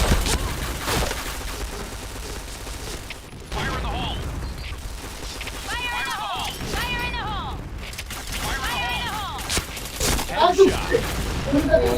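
Gunfire crackles in a shooter video game played at an internet café, bursts of shots and mechanical weapon sounds mixed with game effects, with a voice speaking over parts of it.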